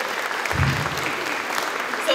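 An audience applauds at a bunad fashion show for Syttende Mai, a brief burst of clapping with a voice speaking over it.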